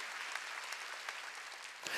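A church congregation at a Wednesday worship service claps together in a steady, dense burst of applause that carries on for about two seconds, heard in a reverberant hall with no voices over it.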